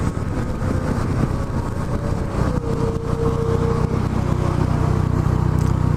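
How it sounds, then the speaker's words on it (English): A motorcycle engine drones steadily while riding on a highway, a loud continuous rumble mixed with wind roar and a brief rising engine tone partway through. "my bike is faster than your bike, and it sounds better"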